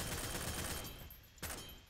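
Gunfire in the Heroes & Generals video game: dense, continuous rattling fire with a sharper single crack near the end, fairly loud under a steady noisy background.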